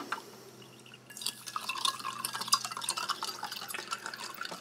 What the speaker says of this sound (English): we'll just give that a mix with some cold water